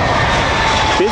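Spirit Airlines jet arriving at Cleveland airport, a steady loud engine roar filling the whole moment with a broad rushing whine, heard close and continuous.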